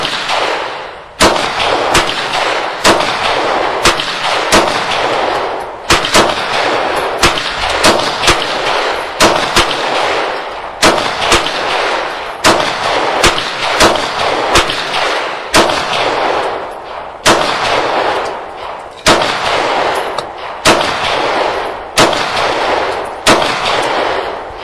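Glock pistol firing USA Ammo rounds outdoors, loud sharp reports in a steady rhythm, roughly two dozen shots spaced about a second apart with short breaks between strings.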